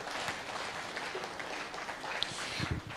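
Audience applause for a keynote speaker at a national dialogue conference on agriculture held under a baobab tree, steady and moderately distant, with a few brighter claps rising out of the crowd noise.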